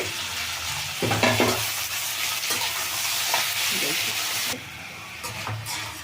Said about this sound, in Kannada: ಚಕ್ಕೆ ಲವಂಗ ಯಾಲಕ್ಕಿ ಮತ್ತು ಶುಂಠಿ ಬೆಳ್ಳುಳ್ಳಿ ಟೊಮೆಟೊ ಒಟ್ಟಿಗೆ ಹಾಕ್ಕೊಬಿಡ್ತೀನಿ ಇದೆಲ್ಲ ಎಣ್ಣೆನ ಸ್ವಲ್ಪ ಫ್ರೈ ಆಗಲಿ